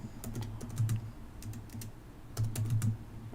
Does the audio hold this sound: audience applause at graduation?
no